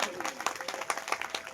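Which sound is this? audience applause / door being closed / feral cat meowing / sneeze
audience applause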